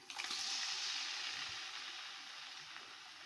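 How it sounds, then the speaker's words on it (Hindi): Garlic ginger paste frying with onions in a pan over a raised flame, a steady hissing sizzle that is faint and continuous, with no one talking. "तो फ्लेम को थोड़ा सा तेज़ करने के बाद हम लहसुन अदरक की अच्छे से भुनाई कर लेते हैं।"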